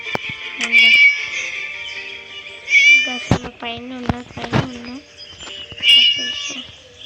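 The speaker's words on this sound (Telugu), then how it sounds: "మా పిల్లి అయితే మియావ్ మియావ్ అని నడుస్తుంది" A cat meows repeatedly in the Scary Teacher video game, with several drawn-out, close calls spaced through the clip. A person talks in between the meows.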